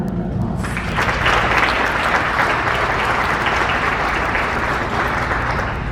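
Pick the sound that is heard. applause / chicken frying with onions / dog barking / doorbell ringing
applause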